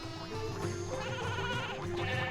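Sheep bleating in the Skylanders: Spyro's Adventure video game, several overlapping bleats in a steady flock chorus over continuous game music, fairly loud and sustained throughout.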